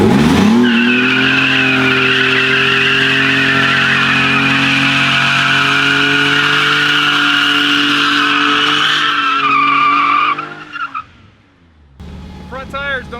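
A BMW E34 fitted with a V12 spins its tires without grip, giving a loud, sustained squeal with engine drone for about ten seconds before it cuts off, followed by brief faint noises.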